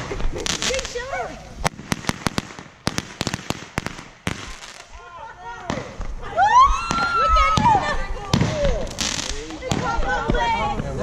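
Fireworks at a Fourth of July show in Florida set off close by in a rapid string of loud cracks and bangs, with whistling rockets screaming upward. People talk and shout throughout.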